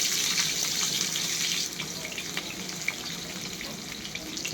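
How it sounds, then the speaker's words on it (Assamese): Panch phoron spices with onion and chili fry in hot oil for dal, giving a steady hiss and crackle that eases slightly partway through, with faint clinks of stirring. "পাঁচফোৰণটো আগতে ভাজি কৰি লওঁ, আকৌ পিঁয়াজ জলকীয়া লগতে দিলোঁ"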